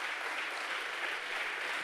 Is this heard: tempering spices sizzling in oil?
no